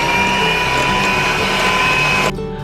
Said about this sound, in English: I chose to just do it with the blender